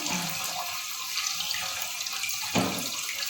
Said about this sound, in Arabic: بصوا المية طالعة ازاي